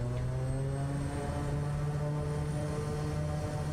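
Propeller engine of the SWS Kodiak plane in Microsoft Flight Simulator 2024, a steady droning turboprop hum with strong low harmonic tones, loud, constant and close, with no talk.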